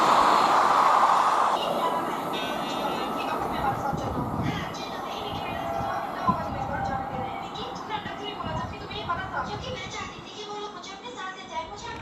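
A Vande Bharat Express train rumbles steadily past at close range for the whole stretch, a broad rolling roar with faint squeals, while people talk over it.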